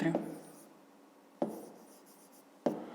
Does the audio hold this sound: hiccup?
no